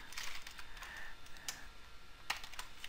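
Code being typed on a computer keyboard, a quick, uneven run of soft key clicks close by, faint and with no talking.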